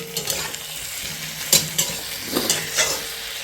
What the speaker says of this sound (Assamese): আদা নহৰুখিনি দি পিনি ভাজোঁ ধুনীয়াকৈ।